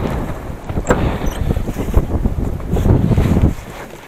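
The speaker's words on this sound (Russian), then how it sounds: "Ох, ветрище сегодня." Strong wind buffets the microphone in heavy, gusting roars that swell and ease over a few seconds, with no voices.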